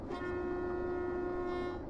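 A single sustained horn blast from a DE2 diesel locomotive in the railway game Derail Valley, loud and close, holding a steady tone for nearly two seconds.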